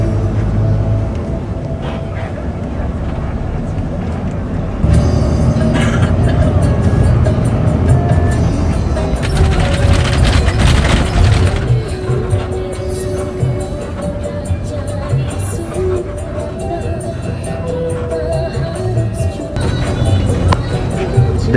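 A Sinar Jaya bus travels along a road through Tegal toward Slawi, giving a continuous loud rumble of engine and road noise that swells midway, with voices partly underneath.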